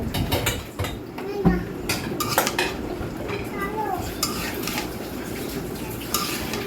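Food being stirred and sautéed in a pot just after salt goes in, with a utensil clattering and scraping against the metal in quick, irregular strokes over a steady low cooking hiss, close by.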